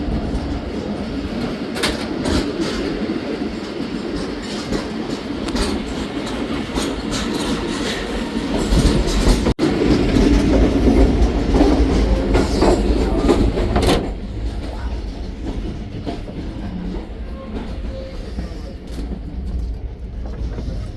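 A Zakariya Express passenger train on the Multan to Karachi line rolls along the tracks with a loud, continuous rumble and rhythmic wheel clatter heard from inside a coach, easing slightly toward the end.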